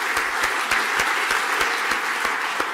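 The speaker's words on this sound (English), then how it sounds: "So let's have a round of applause." An audience applauds after a presentation with a steady, dense round of clapping close by, holding even throughout with no talk over it.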